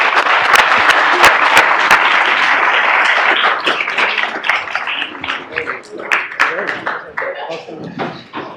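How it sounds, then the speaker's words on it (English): Audience at a Snow College entrepreneurship seminar applauds with dense, loud clapping that slowly thins out, while people begin talking over the fading claps. "But how about another round of applause?"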